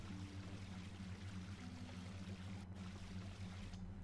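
Water poured in The Sandbox video game, a steady broadband pouring wash with a low hum underneath that continues without a break, alone with no talk.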